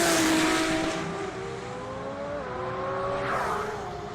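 Toyota Supra drag cars launching at full throttle at the TX2K25 drag racing event at Texas Motorplex, engines screaming up through rising gear pulls with shifts, loud and close, then fading slightly as they pull away.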